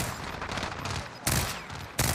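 Gunfire in a Call of Duty multiplayer match with a stock M13 rifle, bursts of rapid shots with two sharp louder volleys near the end, no voices.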